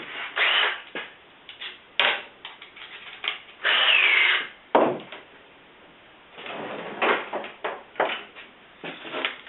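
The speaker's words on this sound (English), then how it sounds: "the beauty about having multiple screwdriver or drills is that you can have different bits in them" A power drill whirs in several short, loud bursts separated by pauses while screws are driven during installation of hockey rink lighting.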